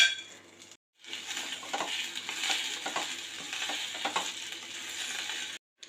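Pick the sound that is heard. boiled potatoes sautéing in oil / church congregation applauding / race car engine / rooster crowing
boiled potatoes sautéing in oil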